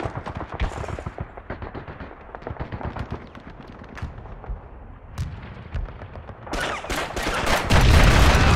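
Battle noise in a Call of Duty game: dense rattling gunfire and booming artillery-like blasts roll on continuously, building to a loud, heavy explosion near the end.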